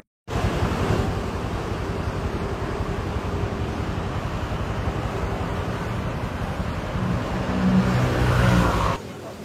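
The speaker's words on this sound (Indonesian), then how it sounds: "Anginnya gede banget." Strong wind hammers the microphone in a steady, loud roar that starts abruptly, holds for about nine seconds with a surge near the end, then cuts off.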